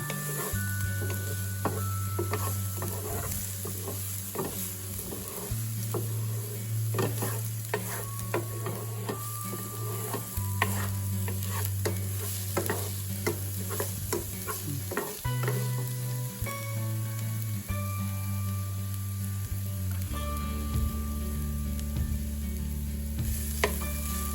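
Onions for Filipino spaghetti fry in a pan with a continuous sizzle, broken by frequent scrapes and taps as they are stirred. A steady low hum from a kitchen appliance runs underneath, and no one speaks.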